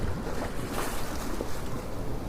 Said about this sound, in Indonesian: Aku berdiri di tepi pelabuhan tua.